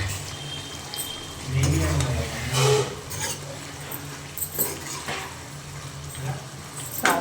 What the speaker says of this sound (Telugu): రైస్ వేసుకొని కలుపుకోవాలి ఫ్రెండ్స్.